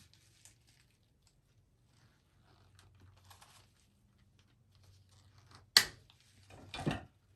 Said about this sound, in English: I'm going to take my wire cutters, cut a little bit more off here.